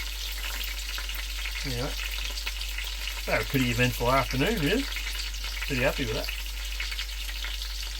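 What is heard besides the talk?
chops sizzling while cooking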